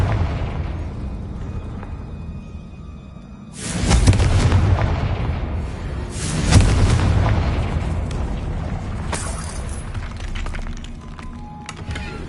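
A loud spell blast from Confringo in Hogwarts Legacy, two heavy booming explosions a few seconds apart with rumbling debris trailing off, over a constant game background.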